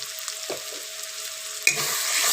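Vegetables frying in oil in a wok, a soft steady sizzle with a faint tone, then a sharp clatter and a louder sizzling burst near the end.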